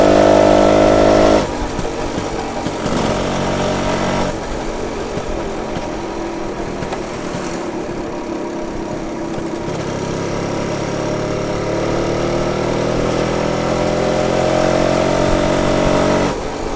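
A warmed-up BSA Bantam 175 motorcycle engine runs steadily close by, a buzzing single-cylinder note that dips and swells with throttle changes, heard alone without talk.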